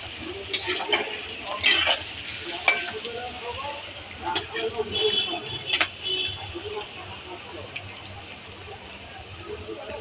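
Onion and garlic frying in a pan with potatoes added, a steady sizzle under scattered clinks and scrapes of a utensil stirring.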